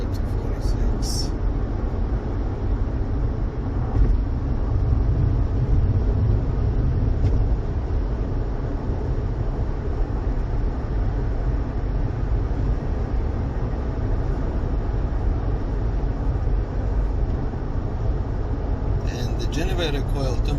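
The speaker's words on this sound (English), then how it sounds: "I'm hitting the gas right now." 2010 Ford Fusion Hybrid with inverter and generator temperature faults running while the accelerator is pressed, a steady loud low engine and road rumble throughout, recorded from inside the car, with someone talking over it.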